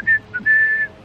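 A person whistles a short, clear tune of three notes: a brief high note, a quick lower blip, then a longer sustained tone, close and alone.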